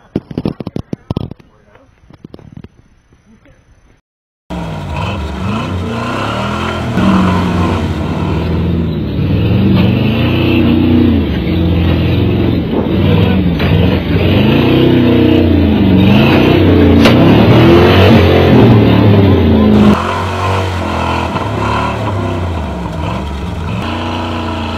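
A mud truck's engine, wedged among rocks on a crawling trail, fires after a bump start and holds a loud, steady rumble with surging revs for about fifteen seconds before easing off, with a voice talking over it.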